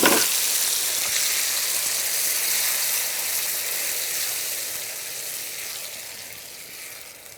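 Tomato paste added to a hot pan for Jain-style bagara baingan eggplant curry bursts into a loud sizzle that holds steady, then gradually softens.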